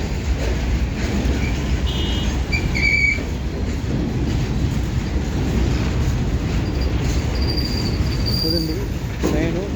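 A long goods train runs past nearby, its heavy rolling rumble continuous throughout, with a few brief high-pitched squealing tones from the wheels or a whistle scattered early and late.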